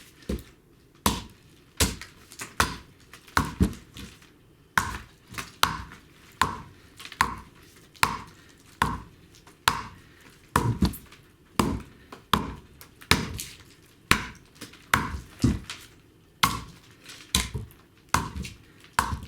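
Japanese chona adze hewing wood in steady repeated strikes, roughly one sharp chop per second, loud and close, with no talk over them.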